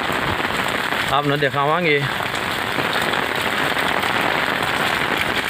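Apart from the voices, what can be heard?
heavy rain falling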